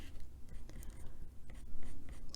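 Colored pencil shading fur on a printed adult coloring page of a bunny on a jewelry box, a soft continuous scratchy rasp with small pauses between strokes, close and alone.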